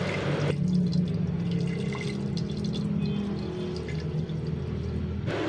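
Water poured steadily into a pressure cooker holding bangus for Spanish-style bangus sardines, a close, continuous rushing pour that runs the whole time with no talking.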